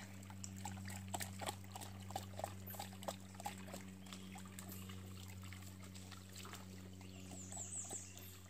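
A male Labrador urinates in the woods, a faint, continuous trickle of liquid on the ground over a low steady hum, with a few soft outdoor sounds around it.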